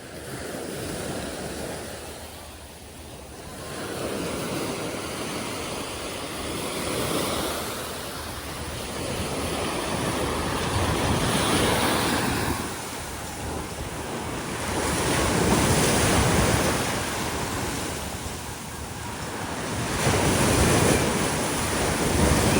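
Ocean waves roll in at high tide on a Boracay beach in the Philippines, a steady wash of surf with wind buffeting the microphone and swells that build louder every few seconds, with no voices.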